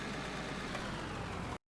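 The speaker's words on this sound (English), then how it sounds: "Get that engine sound, it is loud." Loader engine in the mining game Out of Ore, set in an arctic winter, a loud steady droning roar running evenly before cutting off abruptly.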